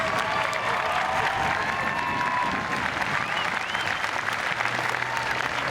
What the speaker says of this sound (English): give yourselves a special round of applause for all of your hard work